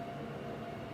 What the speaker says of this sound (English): Sorry if you can hear that train.